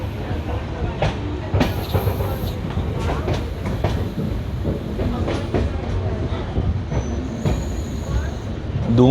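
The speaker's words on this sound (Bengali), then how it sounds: "দু মিনিটের হল্ট দিয়ে আমাদের এই ট্রেন বেরিয়ে পড়ল তার পরবর্তী গন্তব্যে।" A passenger train pulls out of a station after a two-minute halt on the Kolkata to Hasimara line in rain, its wheels rumbling and clattering steadily with sharp metallic squeals and clicks, heard from inside the carriage.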